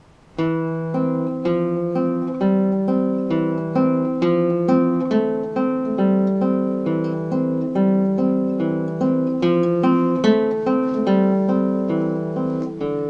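A guitar plays a steady repeating pattern over a sustained low drone note, even plucked rhythm throughout, close and clear with no talking.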